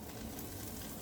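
Peppers and onions fry for breakfast burritos in a hot pan outdoors, giving a brief, steady sizzle held close with no talking.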